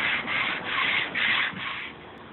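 An orbital sander working over a reclaimed butcher block wooden table top, a steady close abrasive rubbing and whirring that swells and eases in several passes with no talking.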